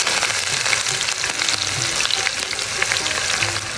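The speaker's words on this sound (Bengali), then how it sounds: "মাছ ভাজা তেলে পেঁয়াজ কুচি মরিচ কুচি সুন্দর মতন ভেজে দেবো" Chopped onion and green chilli sizzle steadily in oil left from frying fish, a loud close crackling hiss with occasional stirring and no talking.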